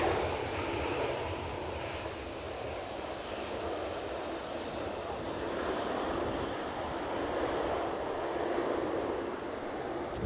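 A passenger airplane lands at Edinburgh Airport during a storm, its engine roar steady and broad under heavy wind rumble, sustained and fairly loud throughout with no talking.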